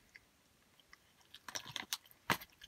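Someone chews a bite of mac and cheese close up, with soft wet crunching and biting noises clustering toward the end of a quiet moment, no speech.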